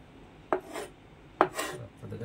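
A knife chops fresh fish into pieces with two sharp, distinct impacts about a second apart, each followed by a brief scraping rasp, close and fairly quiet.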